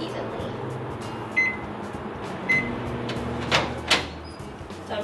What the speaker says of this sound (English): So now we want to put it in the microwave.